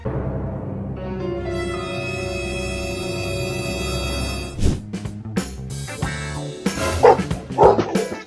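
A dog barks repeatedly at a delivery man, several loud close barks in an uneven burst that starts after a sustained tonal hum, with no talk.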